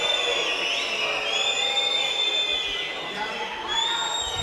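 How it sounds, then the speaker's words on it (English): A crowd at a men's sabre fencing team final in Budapest roars and jeers at a fencer, a sustained high-pitched mass of voices with whistles rising and falling under commentary. "The crowd perhaps a little unfairly booing him"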